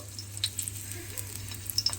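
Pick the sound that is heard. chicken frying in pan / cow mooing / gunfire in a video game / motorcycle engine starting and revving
chicken frying in pan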